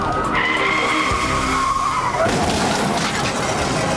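A car running on only three tires during a high-speed police chase skids with a loud, sustained tire squeal, an engine roaring close throughout.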